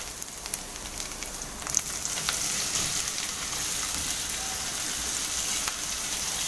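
Sausage sizzling as it sautés in a pan: a continuous dense crackle and hiss of frying with scattered sharper pops, steady and close throughout.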